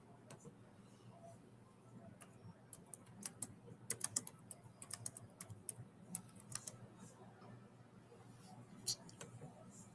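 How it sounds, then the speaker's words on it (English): Computer keyboard typing during a livestream, faint scattered key clicks in short bursts over a quiet room hum. "Hold on, I'm typing it."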